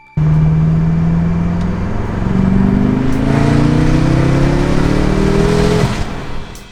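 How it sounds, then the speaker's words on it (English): A modified BMW F10 M5 engine pulls hard at wide open throttle, a loud close drone climbing steadily in pitch with a slight wavering surge midway, then easing off at the end. "if you listen closely, you can hear the inconsistency in throttle and boost during wide open throttle"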